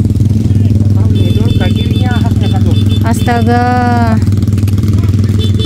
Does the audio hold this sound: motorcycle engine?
yes